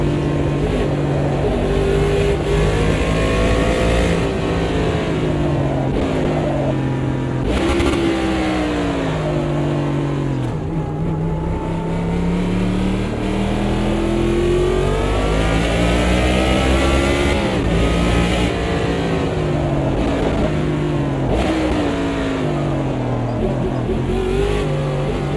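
A stock car engine in Automobilista 2 revs up and down continuously, pitch sweeping high then dropping sharply through braking and downshifts, with quick gear changes repeating close and loud around a road course.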